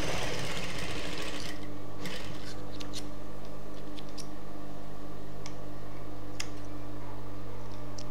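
A sewing machine stitches a churidar pant, running in a loud, steady close whir after a brief start, with sharp clicks and ticks scattered over the motor.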